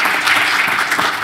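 An audience applauds at the close of a French-language talk: dense, even clapping that crackles steadily through the short moment with no pauses.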